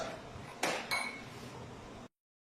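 Spice blend and oil for a chicken mandi marinade being mixed in a bowl, a steady close scraping rattle with two sharp clinks of utensil against the bowl, then it stops.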